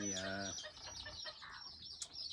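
Chickens on a cold mountain farm cluck and squawk in the morning, loud and close, with chirps and a brief flutter of wings.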